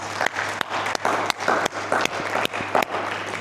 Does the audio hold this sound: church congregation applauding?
yes